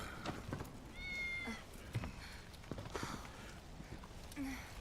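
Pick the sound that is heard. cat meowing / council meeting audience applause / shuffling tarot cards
cat meowing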